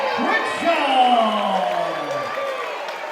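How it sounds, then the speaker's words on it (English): A crowd at a Perth corporate boxing event cheers and applauds the winner of the fight. The sustained, fairly loud roar of voices and whoops has a voice ringing out over it throughout. "can we get one more big round of applause for your winner, Abby, the Baddy"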